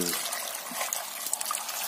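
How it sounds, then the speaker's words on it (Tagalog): Water poured into a cooking pot to make broth for Filipino ginataang gulay, a steady bright trickling splash running continuously and fairly close for about two seconds. "Lagyan natin ng tubig para sa sabaw."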